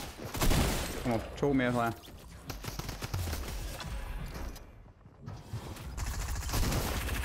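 Rapid gunfire bursts from the video game Fortnite crackle in short volleys, mixed with players talking over the shooting throughout.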